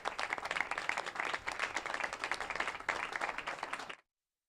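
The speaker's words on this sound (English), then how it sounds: "Let's give our candidates a round of applause." A forum audience applauds council candidates, a dense, steady clapping of many hands that sounds fairly near and fills about four seconds before stopping abruptly, with no talk over it.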